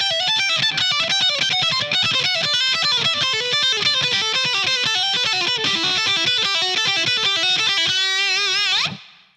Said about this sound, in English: you could do a lot less picking and get a smoother sound like this